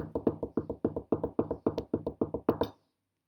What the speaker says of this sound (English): they heard a heavy tapping on the roof